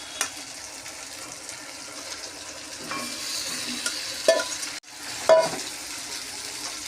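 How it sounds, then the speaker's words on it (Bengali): Mutton goes into spices frying in a pan for a goat curry, with a soft, steady sizzle and occasional scraping stir clicks. The texture stays fairly quiet and continuous, with a brief dip near the end. "ভাজা হয়ে গেছে, এবার আমি মাংসটা এর মধ্যে দিয়ে দেবো।"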